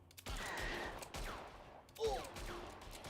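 Rapid bursts of gunfire hitting characters in Evil Genius 2, quick rattling volleys in several short clusters at moderate volume, with a voice briefly heard among the shots.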